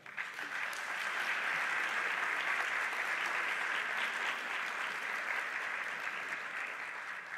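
Steady, full applause from a roundtable audience greeting the panelists, dense clapping sustained at an even level throughout with no talk over it.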